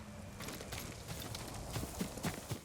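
Horse hooves clip-clop at a walk in Ghost of Tsushima, a steady rhythm of soft thuds that grows a little louder toward the end, heard over quiet game ambience.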